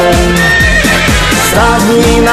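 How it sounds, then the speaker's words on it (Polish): A horse neighs loudly through a dense, fully mixed Silesian song, its whinny rising and falling in a short burst that sits under sustained music. "Stadni na koni, koń konia goni po zielonej łące."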